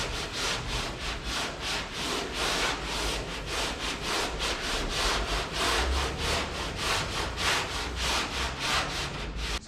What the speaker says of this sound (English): your block, if you keep sanding, your block will think that's a high spot